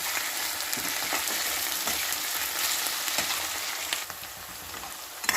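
Onions frying and browning in a pan for Punjabi-style baingan bharta, a steady close sizzle with soft crackle running throughout, alone with no talk.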